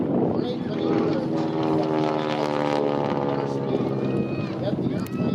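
Radial-engined propeller airplane performing a hammerhead turnaround at the Bremerton airshow, its engine droning loud and steady throughout with a rising and falling harmonic whine, an announcer's voice running over it.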